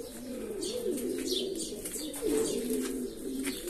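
Pigeons in a loft, including a pouter hen of the Almendralejo breed sitting on eggs, coo continuously in soft, rolling phrases with faint chirps, moderately near and without speech.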